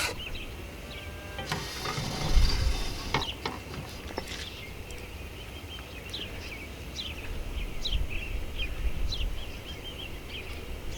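Bacon being stirred into gravy in a cast iron skillet, cooked outdoors, with soft scraping and a steady sizzle, a louder clatter near the start, and birds chirping in the background.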